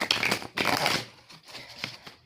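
Tarot cards are shuffled by hand in two brisk riffling bursts, close and fairly loud, with softer handling rustles afterward.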